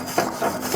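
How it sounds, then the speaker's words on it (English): A metal brush scrapes across a heated grill grate while shish kebab is being prepared, giving three quick, close, rough rasping strokes in a short burst. "I've got my metal brush here, and I am"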